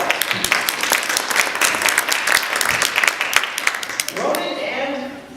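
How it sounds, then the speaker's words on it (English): An audience applauds volunteers with loud, dense clapping that stays even for about four seconds and then fades quickly into a stage presenter's speech. "Let's give our volunteers a big round of applause."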